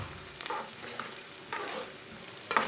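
Onions browning in a pan and stirred with a spoon, giving soft intermittent scraping strokes about every half second over a faint sizzle, ending in a sharper clink near the end, close and fairly quiet with no talk.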